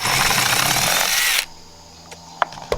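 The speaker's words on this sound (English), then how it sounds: "You can use that hole as a guide to drill the hole on the other side." Power drill cutting through a copper tube for a wind chime, a loud close whine for about a second and a half, then stopping, followed by a few light clicks.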